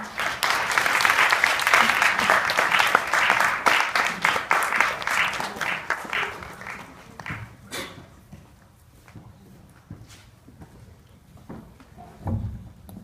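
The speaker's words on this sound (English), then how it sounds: "let's give a round of applause as he makes his way to the stage" A crowd bursts into loud, dense applause for a speaker taking the stage, gradually thinning out and fading, leaving a few scattered claps near the end.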